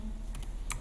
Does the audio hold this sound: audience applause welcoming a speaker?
no